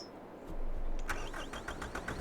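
A farm vehicle engine in Farming Simulator 22 cranks and catches, then settles into a low idle with faint clicks and a tonal whine over it, quiet and steady.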